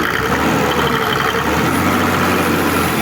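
A motor pump at a pumping station runs with a loud, continuous engine drone up close, and its low hum shifts midway as the throttle is raised.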